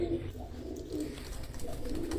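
Soft, low coos from high-flying pigeons repeat a few times, nearby but quiet, over a steady background hum.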